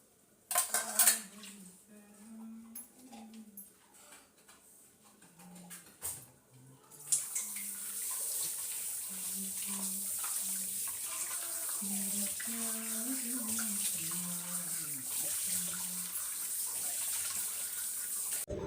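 Dishes clatter and clink in a sink while a tap runs steadily, water splashing continuously over the pots and utensils.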